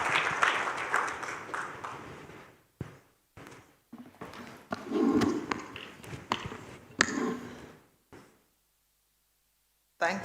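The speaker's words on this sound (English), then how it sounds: "Round of applause for Her Excellency." Scattered applause from a conference audience welcoming a UN official, starting as a modest burst then thinning into sparse, uneven claps, knocks and shuffling before falling silent.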